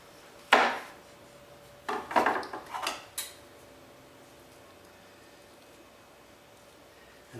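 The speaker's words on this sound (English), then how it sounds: "you can see I'm scooping it out here" Papaya flesh being scooped out for custard, giving a sharp scrape followed by a cluster of soft, close scraping strokes, then near silence.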